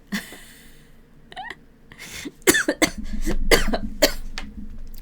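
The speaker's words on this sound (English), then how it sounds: "I just started coughing out of nowhere" Several sharp, loud coughs in quick bursts, close up, with a throat-clearing sound and short pauses between them.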